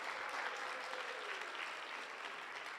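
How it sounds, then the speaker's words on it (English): Applause from the crowd at a FIRST Tech Challenge robotics qualifier in Long Island, faint and steady as a continuous wash of clapping, with a low tone gliding briefly underneath. "Yeah, you can clap if you want."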